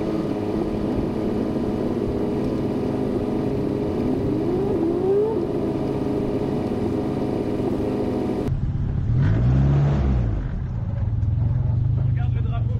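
A Formula Renault race car's engine drones loud and close, its pitch climbing as it accelerates before the tone shifts lower, with a voice talking over it.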